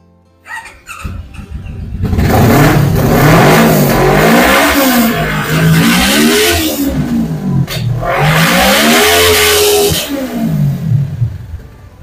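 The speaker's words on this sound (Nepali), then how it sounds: "अहिले हामीसँग NK400 पनि छ 88 2017 मोडलको यो पनि कन्डिसन वाइज राम्रो छ अब तपाईँलाई साउन्डै सुनाइदिउँ न है" A 2017 NK400 motorcycle in good condition revs loudly and close up after a brief start, its engine climbing and falling in repeated throttle blips for about ten seconds before settling.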